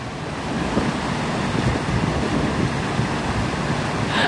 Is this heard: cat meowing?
no